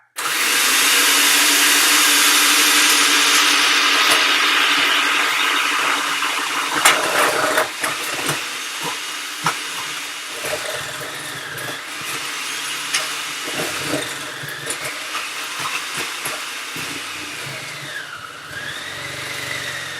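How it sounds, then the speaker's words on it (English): Scraps of handmade laundry soap are fed through a grating machine that runs with a loud, steady motor whine, then winds down into scattered clattering, rattling and knocking as pieces tumble, no voices. "I take things like these scraps of soaps, I feed them through and get them blended"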